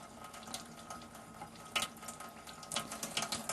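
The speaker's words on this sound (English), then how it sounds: "We'll now take the middle cup and fill it up with the Enagic unit." Water running from an Enagic alkaline water ionizer into a cup, a soft, steady trickle with faint splashing and occasional clinks, heard quietly at close range.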